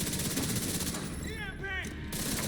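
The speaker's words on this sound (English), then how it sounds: "I'll open up the minigun. Fire." A minigun in The Division 2 fires a continuous, rapid stream of shots, dense and near, with a voice speaking briefly over the barrage.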